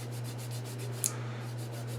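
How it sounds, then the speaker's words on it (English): Soft, rhythmic rubbing strokes of a flexi-file sanding stick on a plastic Jagdtiger tank model, repeated steadily over a low background hum, with one brief click midway. "I'm going to hit it with this. It's a flexi-file sanding stick,"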